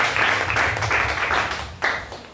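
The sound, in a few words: applause in church service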